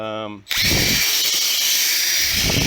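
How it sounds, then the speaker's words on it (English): A power tool with a wire brush spins up after a brief whine, then a harsh, steady scraping grind runs continuously, loud and close, as it strips paint off a metal motorcycle fuel tank. "I just use a wire brush, just take all this off"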